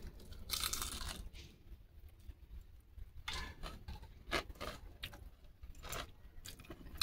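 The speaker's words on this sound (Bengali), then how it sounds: "পুরো মুচমুচ আওয়াজ করছে" Crisp, crunchy chewing of fried ash gourd slices stuffed with prawn, heard up close as irregular bursts of crackling bites with no talking.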